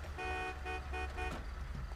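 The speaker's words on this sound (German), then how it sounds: "Ey, hupen sie mal nicht hier" A car horn in GTA V honks in four quick, close toots over low engine rumble, fairly faint.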